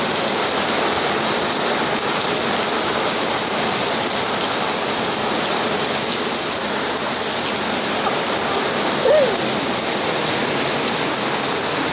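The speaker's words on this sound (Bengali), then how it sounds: "বৃষ্টি পড়ে টাপুর টুপুর" Heavy rain pours while rainwater runs off, a loud, unbroken rushing roar close by. It carries on alone for the whole stretch, with no one talking.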